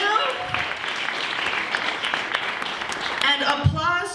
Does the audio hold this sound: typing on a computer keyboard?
no